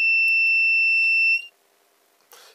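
A small hobby metal detector kit gives a steady high electronic tone for about a second and a half, then cuts off into near silence before a brief burst of noise.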